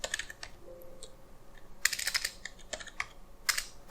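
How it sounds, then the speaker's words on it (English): A Cisco router command being typed on a computer keyboard, with clusters of quick, crisp key clicks separated by brief pauses, close and moderately loud with no voices. "Type logging synchronous,"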